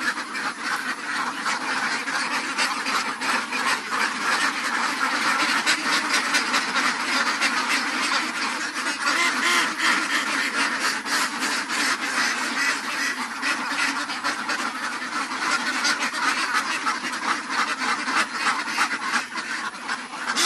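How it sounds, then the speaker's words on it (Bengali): A dense chorus of ducks on a farm of over 400 ducks, quacking continuously, loud and close, with overlapping calls filling the whole stretch. "এই খামারটাতে 400 প্লাস হাঁস আছে।"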